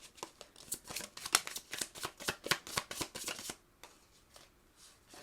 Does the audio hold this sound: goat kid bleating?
no